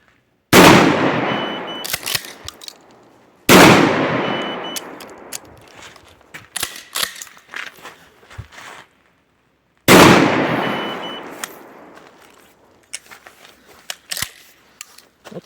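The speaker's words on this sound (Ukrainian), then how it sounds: "Три постріли, наважка 2 грами." Three gunshots from a rifle with a 470 barrel and a 2 gram powder charge fired in cold air, each a loud sharp blast with a long decaying echo, spaced a few seconds apart.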